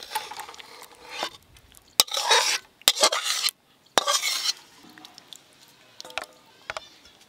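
A spoon scrapes and clatters against a pan as a spiced egg curry is emptied out of it. The bursts are short, uneven and fairly close, with quiet gaps between them and no talking.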